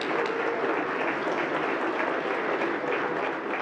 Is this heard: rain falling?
no